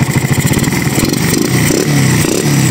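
A Honda XRM 125 big-valve motorcycle engine with a 57mm block and 6.8 cam, with no chain fitted and the carb not yet tuned, fires up and runs with a loud, close, rapid pulsing idle and rattly clatter.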